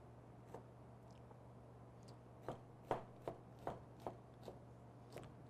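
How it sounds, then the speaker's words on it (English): A knife slices raw fish for crudo on a cutting board, with about eight distinct soft chops spaced irregularly over a steady low hum, close and fairly quiet. "So we're going to slice this against the grain"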